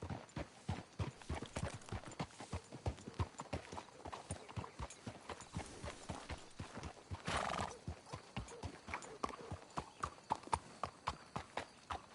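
Horse hooves clip-clop in a steady rhythm on a hard surface in the video game Red Dead Redemption II, with a horse whinnying partway through and faint rustling behind.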